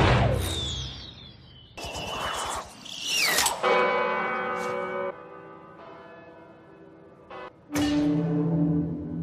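In a scene from the Marvel series Hawkeye, a large bell atop a building rings with heavy, resonant clangs before it crashes down, with sharp impacts, lingering metallic tones and debris noise, and no one speaking.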